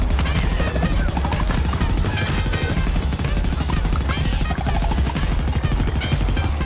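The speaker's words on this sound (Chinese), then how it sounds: "尝尝浪哥的大机枪，来多少人都没有用" Heavy machine gun firing without pause in a 3D Plants vs Zombies shooter, a loud, dense stream of rapid shots layered with crashes and explosions in a chaotic battle.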